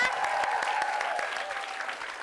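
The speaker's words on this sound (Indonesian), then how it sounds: "tepuk tangan dulu buat mereka semuanya" Studio audience on an Indonesian comedy game show applauding, dense clapping from a crowd, loud at first and tapering slightly, with a voice faintly audible beneath it.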